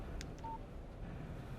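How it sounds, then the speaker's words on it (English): Phone text message alert in the video game Alan Wake: two short electronic chimes, the second fainter, with a brief tone after them over quiet game ambience. "Text message from Barry"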